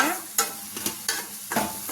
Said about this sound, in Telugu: ఇప్పుడు ఇందులో ఒక చిన్న కప్పు చింతపండు పులుసు వేసుకొని కలుపుకుందాం